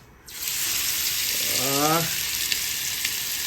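Backwater fish frying Alappuzha style in oil heated for about five minutes: a loud, close, constant hissing sizzle, with a brief voice-like tone rising partway through.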